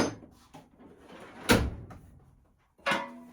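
A hammer is set back into a shop drawer: a handful of clunks and knocks, two sharp louder bangs as the drawer moves and shuts, close up in a quiet room.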